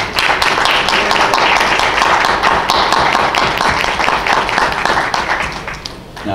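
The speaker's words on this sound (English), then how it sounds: "So would you please join me in giving our teachers a round of applause?" A crowd at a school parent-teacher meeting gives its teachers a round of applause, loud, sustained clapping from many people that holds for several seconds before tapering slightly at the end.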